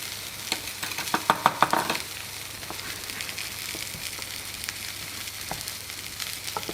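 Sausages for rougail saucisse grill in a pan with a steady low sizzle, a cluster of sharper crackles and spits near the start, then quieter continuous frying with occasional pops.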